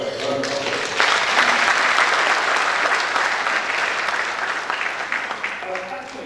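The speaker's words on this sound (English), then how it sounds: "I think our guest lecturer deserves a round of applause." An audience claps for a guest lecturer at a commandant's event, with sustained, full-room applause throughout and a voice partly audible beneath it.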